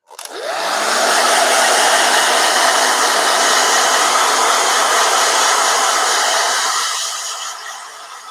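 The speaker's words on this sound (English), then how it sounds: "Blow dryer jump scare too." A hand-held blow dryer runs steadily for several seconds over a watercolor painting, a loud continuous whooshing roar that starts abruptly, holds even, then tapers slightly at the end.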